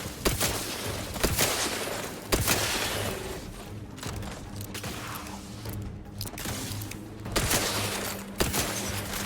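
Rapid bursts of gunfire from the sci-fi shooter The Outer Worlds 2, with repeated sharp shots and fusillades at steady intervals over a continuous combat din, fairly close and loud.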